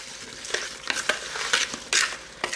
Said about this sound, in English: We stir up our apple stuff